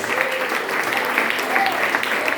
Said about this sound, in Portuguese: Vamos dar salva de palmas ao Senhor.